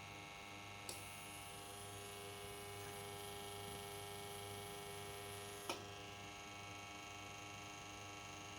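A small electric motor drives the roof open on an Arduino-controlled IoT greenhouse, giving a steady, faint buzzing hum that starts and stops with a sharp click at each end, with no talking.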